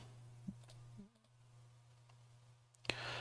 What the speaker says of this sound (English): we'll be clicking on that link